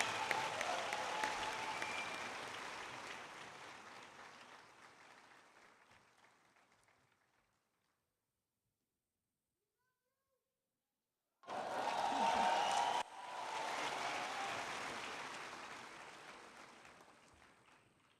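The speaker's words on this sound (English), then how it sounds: "Another round of applause, please, for this wonderful chat." Audience applause at a pitch competition event, a sustained round of clapping that fades out, a few seconds of silence, then a brief burst and another round of clapping.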